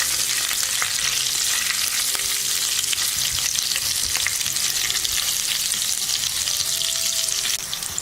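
Lentils, mustard seeds, cumin and green chillies sizzle steadily in hot oil for a South Indian tempering, a dense continuous crackle with a few sharper pops and light stirring scrapes, close and fairly loud, with no talk.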